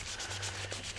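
Vigorous rubbing with a cleaning cloth on a radio-control model's mounting surface for a brushed electronic speed controller, a steady close, dense scrubbing sound.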